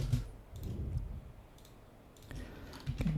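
Keys tapped on a computer keyboard, a few scattered light clicks ending in a firmer press, faint and close against a soft room background.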